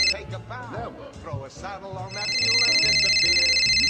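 A phone rings in a scene, its bright electronic trill starting partway through and continuing steadily and loudly after excited talking voices.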